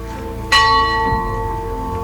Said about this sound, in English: I just rang that bell